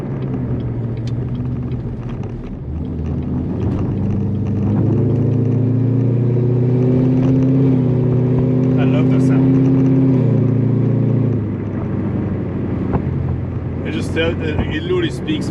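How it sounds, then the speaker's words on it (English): A Chevrolet C7 Corvette with headers and a straight-pipe exhaust rumbles loudly nearby, swelling into a sustained rev, then dropping back to a deep idle. A person talks over it and wind buffets the microphone. "This video is fully related to just a straight pipe on the C7 Corvette."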